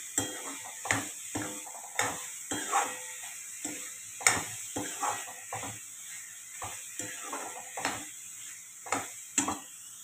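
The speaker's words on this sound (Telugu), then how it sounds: "మనం తరిగి పెట్టుకున్న టమాటాలు కూడా వేసుకుని వేయించుకోవాలి" Chopped tomatoes frying in a pan while a spoon stirs them, with a soft sizzle under regular scraping knocks about once or twice a second, close by.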